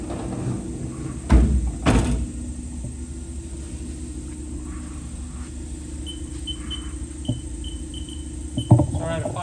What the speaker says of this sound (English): We're going to have to close the door because the door interlocked